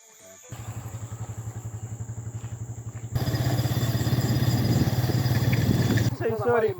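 A motor engine runs in a forest in Côte d'Ivoire, a loud close chugging that pulses steadily, grows louder and rougher partway through, then cuts out abruptly into quieter forest background.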